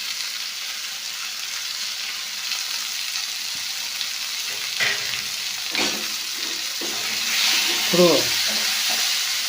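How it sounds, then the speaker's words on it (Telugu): Tomatoes and salt get stirred into an okra curry in a pan, giving a soft steady frying sizzle with a few spoon scrapes and clinks, while someone speaks briefly now and then. "టమోటాను వేసుకొని ఇలా బాగా కలుపుకొని కూర సరిపడినటువంటి సాల్ట్ చల్లుకోండి"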